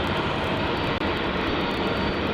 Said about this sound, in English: make its way down to runway 34 for its departure with that longer flight